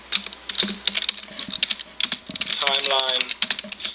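Rapid typing on a computer keyboard, with close, irregular clusters of key clicks running throughout and some faint background voice.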